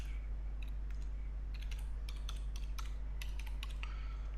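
Typing on a computer keyboard, a quick irregular run of close key clicks over a steady low hum, with brief pauses between bursts.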